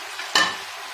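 Green chillies hit hot oil in a Peshawari chicken charsi karahi, setting off a sudden loud sizzle that settles into a steady frying hiss.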